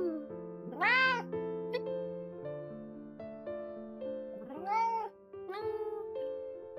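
A house cat gives several rising, drawn-out meows close by indoors, two strong calls with quieter ones between, over a sustained tonal background.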